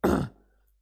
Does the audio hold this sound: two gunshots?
no